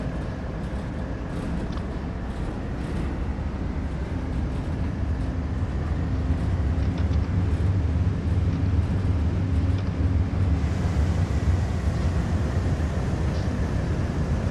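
A BNSF ES44AC diesel locomotive in Train Sim World 3 rumbles steadily with a deep, continuous low drone and a faint tonal hum, swelling slightly louder partway through; no talking.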